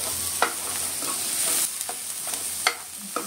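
Onion and spices frying in a pan give a steady close sizzle, broken by a few sharp scrapes and taps as they are stirred, with nobody speaking.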